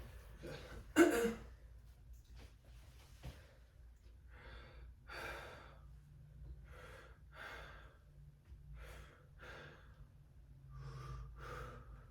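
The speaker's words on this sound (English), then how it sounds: "So once I touch my stethoscope, go ahead and take a deep breath, okay?" A patient takes several deep breaths during a stethoscope lung exam in a clinical head-to-toe assessment, with one sharp gasping inhale near the start followed by slower, softer breaths and a low steady hum underneath.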